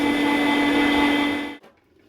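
A meat grinder runs steadily with a strong mechanical hum while grinding for homemade summer sausage, then winds down and cuts out near the end, followed by a brief quiet clatter.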